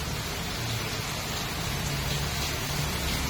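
Heavy rain falls in a steady, dense hiss with no breaks, loud and continuous throughout, during a typhoon that has brought landslides and flooding.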